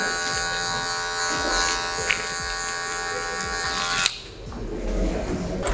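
Electric hair clippers buzz steadily and close while cutting a medium taper fade, then the tone drops sharply as the blade shifts position.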